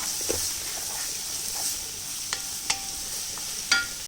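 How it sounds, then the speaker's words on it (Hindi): Onions sautéing in a pan for dhaba-style aloo gobhi, a steady close sizzle with a few sharp scrapes of a spoon stirring at intervals. "अब इनको सौटे करूँगी"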